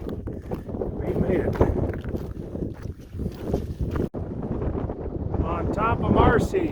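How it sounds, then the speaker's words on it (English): Strong wind gusts across the open summit of Mount Marcy in the Adirondack High Peaks, buffeting the microphone with a steady rushing roar while people talk over it. "It's wind picked up when we got here."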